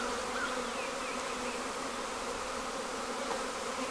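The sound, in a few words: honey bees buzzing around the hive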